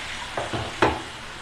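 Chicken pepper fry sizzling in a pan on high flame while being stirred, a steady frying hiss broken by a few close scraping stirs.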